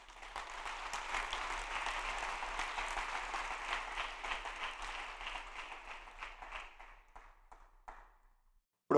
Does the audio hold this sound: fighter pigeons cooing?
no